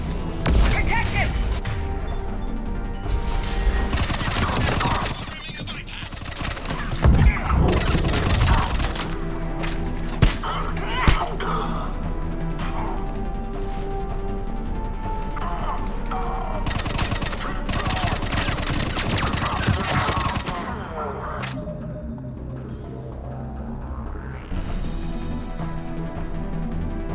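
Sustained automatic gunfire and crashing impacts fill a Mass Effect 3 battle on PS3, with rapid bursts and occasional loud booms running continuously under shouted voices.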